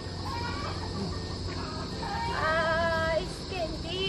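Several chickens cluck and squawk close by, with a rooster's drawn-out call rising over a steady outdoor background hum.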